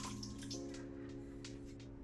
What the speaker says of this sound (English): Into a bowl, add 1 3/4 cup of warm water